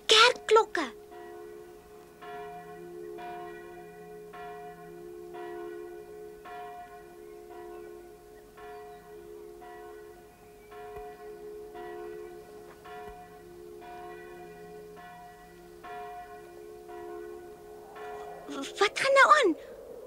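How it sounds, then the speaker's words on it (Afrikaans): Church bells ring in a slow, steady series of strikes with a lingering hum beneath, heard from a little way off behind a children's cartoon scene, with short bursts of voices at the start and end. "Wat die kerkklokke."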